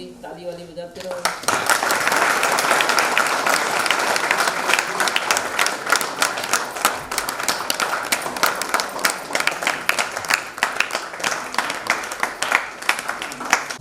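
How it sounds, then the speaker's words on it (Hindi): An audience claps and applauds loudly and continuously at a company event, dense sustained clapping after a brief voice at the start. "क्यों नहीं ताली वाली बजाते रहो।"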